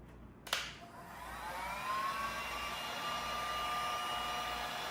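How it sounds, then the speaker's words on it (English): A heat gun warms the adhesive on a motorcycle tank grip for a Daytona 675, starting with a sharp click and then a steady, fairly loud whirring blow with a faint whine, running alone without talk. "we'll take a heat gun and we'll heat it up a little bit just to make sure it adheres really well"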